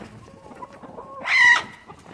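Hens laying in a box on a small farm cluck softly, then one lets out a louder, rising squawking call near the end, close by with no talk.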